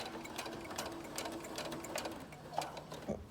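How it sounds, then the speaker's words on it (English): Sewing machine back stitching along a waistband, a rapid close mechanical whirr and needle clatter running throughout, slowing and shifting in rhythm as the stitching reverses direction, no talking. "I'm gonna go slow, and then I'm gonna back stitch. And then I'm gonna go forwards again."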